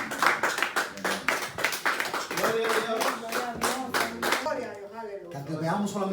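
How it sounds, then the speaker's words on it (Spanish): A church congregation claps together in fast rhythmic bursts, loud and close, with voices singing or calling out over the clapping throughout. "Póngase a sus pies y dé un aplauso al Espíritu Santo."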